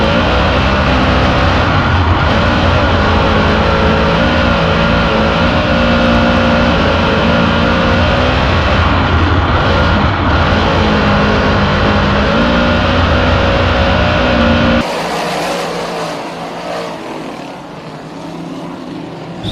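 A pack of race cars at a short-track memorial race roars together at the green flag start, a loud sustained multi-engine drone under full throttle, then drops away as the field pulls off into the distance.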